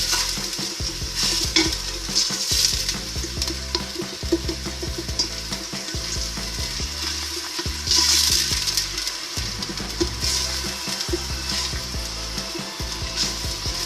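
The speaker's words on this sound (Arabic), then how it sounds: "نخلط شويه،" Onions stir-fried in a pot for a Tunisian chicken soup, a steady sizzle running throughout with repeated scraping stirs of a utensil against the pot, close and fairly loud, no talking.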